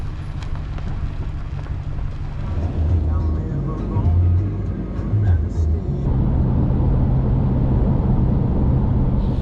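A car drives along a road on a detour to Lake Okeechobee in Florida, its steady low engine and road rumble close and continuous with shifting gear-like tones.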